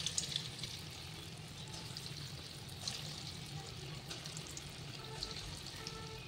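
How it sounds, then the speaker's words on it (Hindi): Small lentil vadas for a Rajasthani kanji wada recipe sizzle steadily in hot oil, a continuous, moderately quiet frying hiss with occasional pops, no voices. "तो देखिए इस तरह से छोटे छोटे बड़े हम ऑयल में डालेंगे।"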